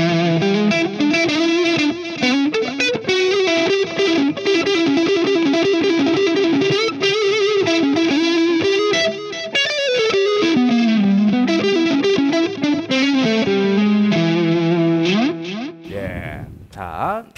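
Electric guitar on its front Duncan pickup, played as a long melodic run of sustained, slightly overdriven notes with bends and vibrato, loud and close, ending with a brief burst of handling noise.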